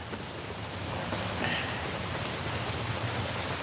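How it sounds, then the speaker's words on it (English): Heavy rain pouring during a morning electrical storm, a dense even hiss of drops on surfaces that holds steady throughout, fairly quiet with no voices. "oh, it's starting to pour again."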